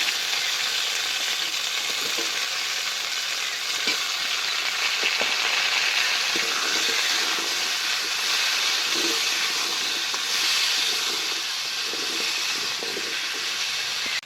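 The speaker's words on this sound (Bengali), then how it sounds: "এবার আলু ভাজার মধ্যে কুমড়োগুলো দিয়েও ভালো করে নাড়াচাড়া করে ভেজে নেব।" Potatoes and pumpkin fry in a pan and get stirred, a loud, steady sizzle and hiss running throughout with faint scrapes and clinks from the stirring.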